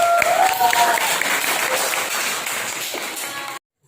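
Classroom applause from students in a teaching practice lesson, a dense continuous patter of clapping that is loud and steady, then stops abruptly, with a few faint voices mixed in.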